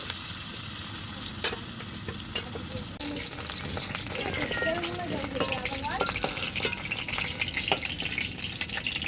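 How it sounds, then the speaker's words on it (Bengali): Long-cut potatoes fry in leftover rohu fish oil in a pan with a steady, close sizzle and crackle, under intermittent talking. "তো এই তেলে আমি আলুটা ভেজে নেবো"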